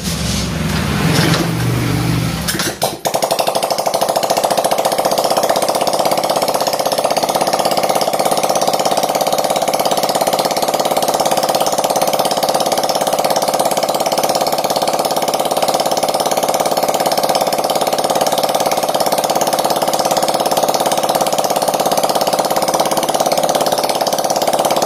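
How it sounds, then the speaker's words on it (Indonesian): A motorcycle engine starts after a few seconds of handling noise, then idles steadily and continuously at a constant low hum, close by with no talk. "Jadi setelah saya hidupkan motornya tadi"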